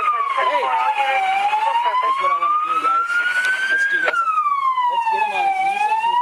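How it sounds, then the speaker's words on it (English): A loud police siren wails continuously, its pitch sweeping slowly up and down, with faint voices mixed beneath it. "I know the siren's going"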